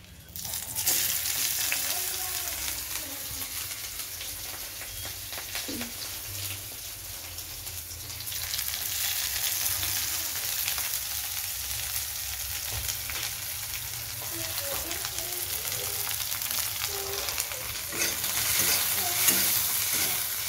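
Potatoes fry and are stirred in mustard oil in a pan, with a steady close sizzle and repeated scraping stir strokes throughout.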